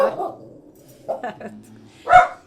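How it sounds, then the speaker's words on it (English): A guard dog barks in a few short, sharp bursts spread over a couple of seconds, the last one loudest and closest, while a person talks faintly alongside. "Guard dog. He can hear something out there."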